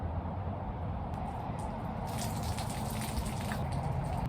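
Water is drained from a cooking pan by holding the lid against the rim and pouring, making a steady gushing, splashing flow with no one speaking.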